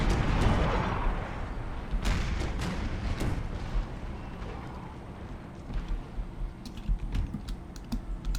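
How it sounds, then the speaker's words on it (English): Artillery fire in the video game Empire: Total War (Imperial Splendour mod) booms in scattered distant and near shots through a battle, layered over rumbling background and the clatter of a computer keyboard, with no voice. "And we have the first shots being fired."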